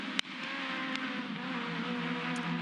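Small Aussie Racing Cars run side by side at the Adelaide street circuit, their engines giving a steady, moderately distant drone with rising and falling pitch, broken by a brief sharp click near the start.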